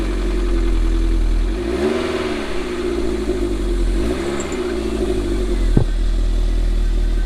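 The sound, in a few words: MG TF VVC car engine starting up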